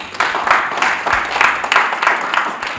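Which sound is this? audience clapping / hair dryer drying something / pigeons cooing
audience clapping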